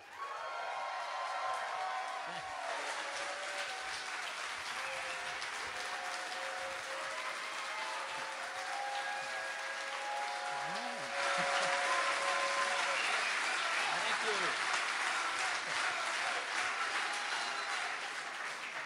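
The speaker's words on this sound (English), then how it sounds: "please give your best applause for the great," An audience at PorcFest applauds speaker Tom Woods with sustained clapping that swells louder partway through, joined by scattered whoops and cheers.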